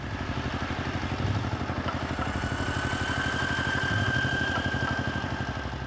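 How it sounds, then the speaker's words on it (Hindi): A tractor engine runs steadily while sowing a field, its rapid even chug thrumming close and loud, with a faint whine riding over the rumble and no voices. "राजा ठाकुर का ट्रैक्टर बुआई कर रहा है।"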